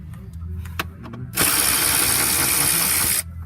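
A ratchet or power tool working during engine removal on a BMW 135i with the N54 engine, a loud steady whirring run of nearly two seconds after a few faint clicks in a garage.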